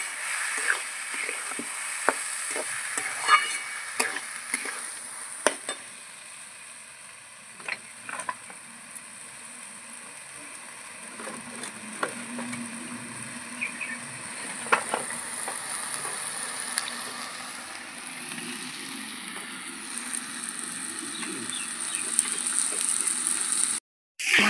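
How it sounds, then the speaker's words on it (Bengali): Rice and winter vegetables sauté in oil in a pot for veg khichuri, giving a soft, steady sizzle with scattered clicks of stirring throughout. The sound is fairly quiet and close, with no talking. "তেলের মধ্যে ভালো করে একটু কষিয়ে"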